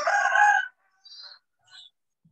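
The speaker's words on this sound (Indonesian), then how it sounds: "depan rumah tuh soalnya melihara ayam banyak banget. Jadi kalau pagi dia selalu berbunyi." A rooster crows close by, one loud strained call followed by two shorter, fainter trailing notes, from a neighbour's yard where many chickens are kept, with quiet pauses between.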